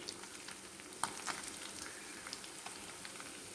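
Kattey parigela fish fry in hot oil on a stove, a steady soft sizzle with scattered crackles and pops, quiet and close, no talk.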